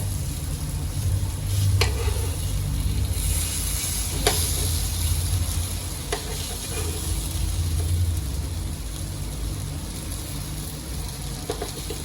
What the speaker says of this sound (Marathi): ह्याला मी परतून घेते पलटी मारून घेते मच्छीला दुसऱ्या साईडनी पण